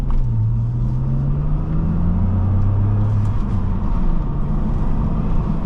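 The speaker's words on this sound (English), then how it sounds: "The engine sounds nice and deep, has that little growl to it." A 2006 Saab 9-3 Aero SportCombi turbo engine growls deep and steady while driving, a loud continuous rumble with a rising and falling drone and no talking.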